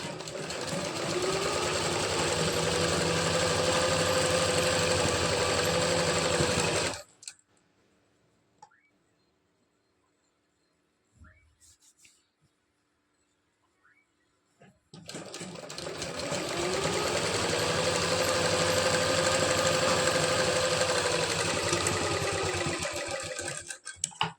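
Sewing machine stitching a double-folded hook strip onto a belt blouse, a steady, fast whirring run of about seven seconds, a quiet pause with small handling clicks, then another long continuous run.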